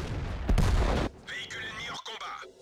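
An AMX CDC tank gun in World of Tanks fires a heavy, booming shot that rolls out and decays, followed by a quieter metallic mechanical clatter.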